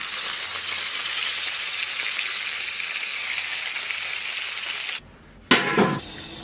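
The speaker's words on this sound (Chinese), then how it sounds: "再给它浇上热油" Hot oil poured over minced garlic, chili powder and sesame seeds gives a loud, steady crackling sizzle for about five seconds, breaks off abruptly, then a short second burst of sizzling follows.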